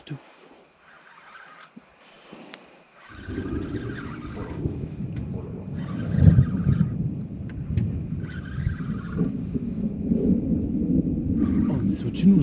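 Thunder from a summer storm directly overhead at night during an Italian carp-fishing trip, a deep heavy rumble building and rolling continuously after a quieter start, with people talking excitedly over it.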